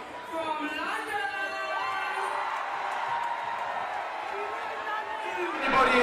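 A live show audience cheers and whoops for people who travelled out from London, a loud sustained crowd roar with excited voices layered throughout and a swell near the end.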